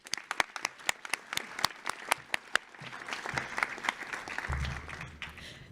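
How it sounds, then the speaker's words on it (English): Applause at a National Honor Society induction ceremony, starting as a few sharp, separate claps that build into fuller, steady clapping from the crowd. "so let's give up an applause for them"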